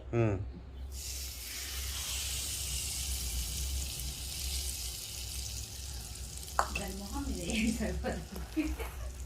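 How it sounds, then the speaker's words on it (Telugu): Asafoetida and mustard seeds tempered in hot oil for a curry-leaf roti pachadi, a brief burst then a continuous bright sizzle that holds steady, with some clattering stirring near the end. "ఇంగువ, ఆవాలు, తిరగబాత వేస్తున్నానండి"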